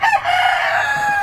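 A breeding rooster, a gamecock called el gallo de compadre, lets out a single loud, drawn-out crow close by, sustained and strong to the end.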